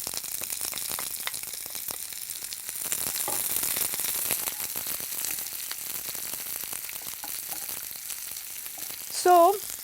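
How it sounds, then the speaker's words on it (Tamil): Chopped onions sauté in hot oil with fenugreek seeds for a tamarind vatha kuzhambu, a steady close crackling sizzle that continues throughout, ending with a brief clink of a utensil. "ஸோ இப்போ வந்து நம்ம வெங்காயத்தை நம்ம வதக்குறோம்"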